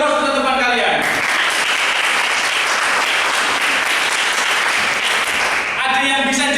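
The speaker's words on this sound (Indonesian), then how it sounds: "Beri aplaus untuk teman kalian." A classroom of students breaks into loud, dense clapping for a classmate that lasts about five seconds, with a teacher talking just before and right after it.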